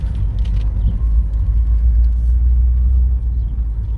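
A 1983 Porsche 944 idles after a cold start, a steady, loud low rumble that holds even with no revving, close up and alone.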